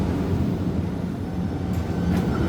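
A train runs through Dubai with a steady, low rumble and rolling rail noise. The sound is heard from on board or nearby, continuous and even, with no voices over it.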